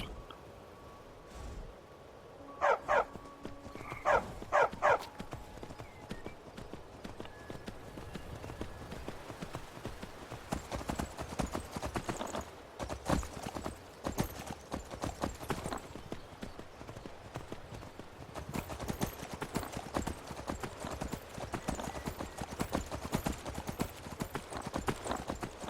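Horse hooves clip-clop in the Skyrim video game, a few crisp distinct steps early on, then a fast, dense run of galloping hoofbeats continuing loudly to the end.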